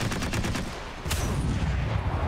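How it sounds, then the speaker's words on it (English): Gunfire from a Pr. 206 warship in a naval combat video game, a continuous rattling burst with a sharper crack about halfway through, loud and close, with no voice. "So you can see this burst fire"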